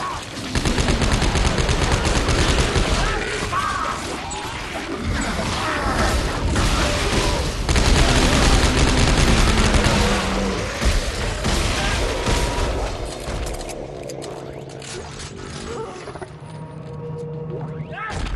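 Rapid-fire weapon in Dead Space 3 shooting in dense sustained bursts with booms and clanking game effects, loud and continuous, with players talking over it.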